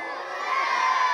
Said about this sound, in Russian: А давайте дружно крикнем «Ура!»